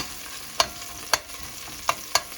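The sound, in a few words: tomato paste frying in a pot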